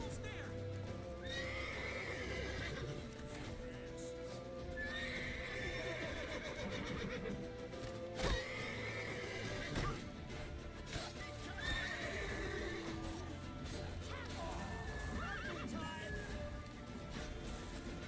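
Horse neighs and clip-clopping hooves from the video game The Witcher 3, with several whinnies over a busy game soundtrack and a voice talking at moments throughout.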